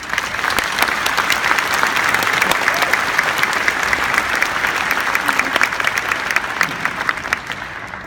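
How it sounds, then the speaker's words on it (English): A graduation audience at Osbourn Park High School claps steadily for the teachers, with loud, dense applause and some sharp individual claps standing out, sustained evenly throughout. "Clap it up for the teachers."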